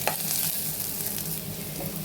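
Green chilies frying in oil in a pan with onions and ginger-garlic paste for kakarakaya pulusu, giving a steady close sizzle with faint stirring scrapes throughout.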